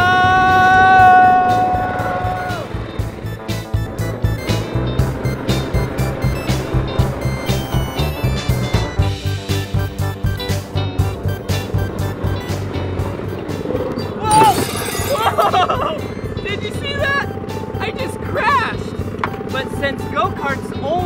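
A small go-kart engine revs and drones in a steady pulsing rhythm as the kart pulls away, with voices exclaiming over the engine and a brief rushing burst midway.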